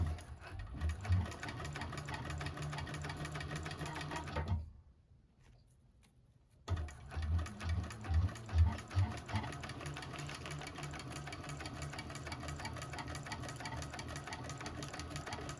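A 1341 cylinder arm sewing machine stitching a bag runs in a close, steady mechanical chatter, stopping for about two seconds before resuming at an even pace.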